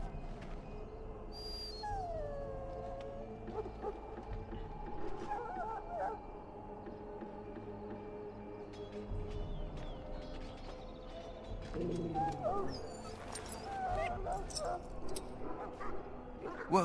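A dog in Dragon Age: Origins whimpers and yelps in a few short, pained bursts, with a bark or two, heard fairly close among game ambience while people talk over it.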